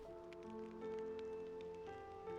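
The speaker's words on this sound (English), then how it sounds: "It's raining?" Rain falls steadily in Xenoblade Chronicles 3, a soft continuous patter under sustained tonal game music, with no talking.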